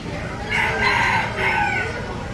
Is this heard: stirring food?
no